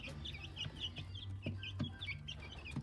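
Young chicks in a pen under a heat lamp behind chicken wire give repeated soft clucks and high chirps, busy and close, with a few small thumps among them.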